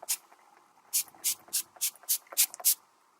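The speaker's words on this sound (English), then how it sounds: "I'm just gonna spray it a little bit." Several short bursts of a fine mist of makeup setting spray, about seven quick pumps in a loose rhythm, close and fairly quiet.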